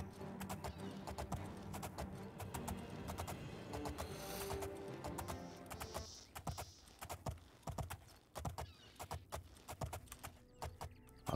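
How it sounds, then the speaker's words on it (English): Horse hooves clip-clopping in the video game Oblivion, a brisk irregular run of hard taps on a town street, close and moderate, thinning into separate footfalls after midway. "Look at these beautiful white horses."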